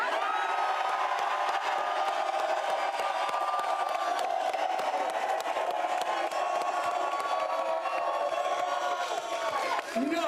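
A studio audience at State Farm Stadium, home of Super Bowl 57, cheers and whoops continuously, a dense steady roar of crowd noise filling the whole stretch with no pause.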